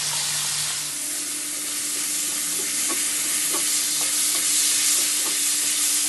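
Chicken marinated in fish sauce fries in a pan with a steady, loud sizzling hiss throughout, broken by a few soft stirring clicks near the end.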